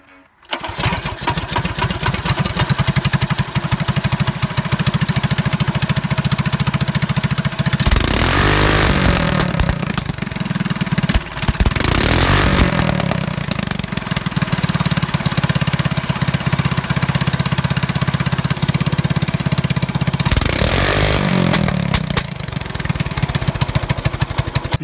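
Small kart engine running steadily at loud, close range, a buzzing drone that rises in short revving bursts, with no talking.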